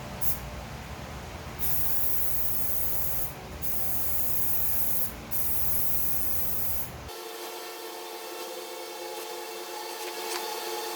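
Bursts of spray paint from an aerosol can hiss in a steady stream, pausing briefly between passes while coating a shutter, then giving way to a quieter high-pitched hiss.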